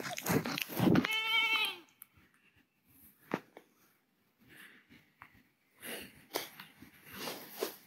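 Goats on a farm bleat in a harmonic, wavering cry up close at the start, followed by scattered snorts, shuffling and softer animal noises with a few short louder bursts.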